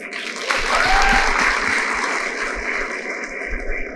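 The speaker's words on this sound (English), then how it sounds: "we would welcome all of our brilliant panelists with a huge round of applause" A leadership summit audience applauds to welcome a panel, a dense, steady wash of clapping that holds for several seconds with a faint murmur of voices underneath.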